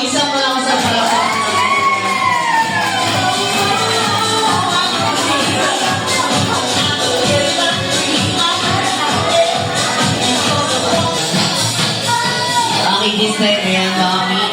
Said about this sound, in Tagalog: Isang malakas sa palakpak.